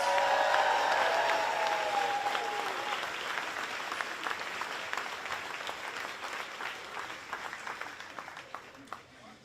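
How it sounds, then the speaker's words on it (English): Outdoor crowd applause for musicians at the Fancy Farm political picnic in Graves County, Kentucky, a broad wash of many clapping hands that thins gradually into scattered claps, with a voice audible near the start. "let's give both of our musicians here in Graves County another round of applause."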